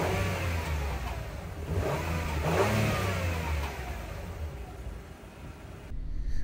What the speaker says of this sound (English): give us some type of sound from the V6, because it doesn't really sound that good